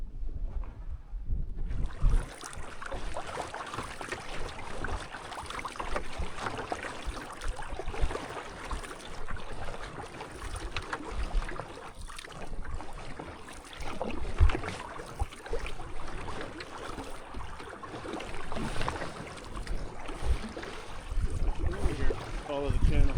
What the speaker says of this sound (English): Great paddle. A little bit of wind, but not too bad.